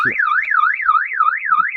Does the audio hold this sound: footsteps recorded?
no